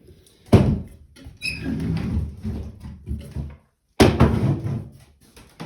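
A fold-out wall-mounted desk workstation with a foldable IKEA Norberg chair is folded, giving a sharp clack, then creaking and rubbing movement, a pause, and another clunk, close and fairly loud.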